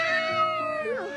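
Children's voices imitate a cat meowing, a drawn-out high 'miaou' that slides downward at the end and is sung together as one short call.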